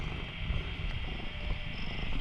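A cat purrs close up in a steady, continuous low rumble, the breaths blending together with no pauses, alone and without any talking.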